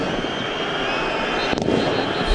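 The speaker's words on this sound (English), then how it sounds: "it's all very well to have these fireworks, but shouldn't be entering the pitch" Fireworks set off by fans inside a football stadium during a PAOK vs AEK cup match, a sharp crackling burst rising over a steady, loud crowd roar.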